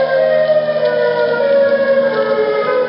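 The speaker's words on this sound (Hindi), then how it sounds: "सायरन हेड की आवाज फिर से आ रही है" Siren Head's loud, sustained siren wail in a horror story, a steady droning tone with layered harmonics holding unbroken throughout.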